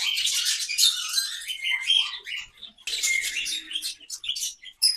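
Parrots and budgies in an open aviary chirp and squawk in busy, overlapping bursts, with a brief lull in the middle before the chatter resumes close by.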